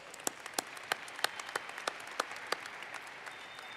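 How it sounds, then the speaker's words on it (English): A graduation crowd at UCCS gives another round of applause, a soft, distant wash of clapping punctuated by sharper individual claps at a regular pace. "give them another round of applause"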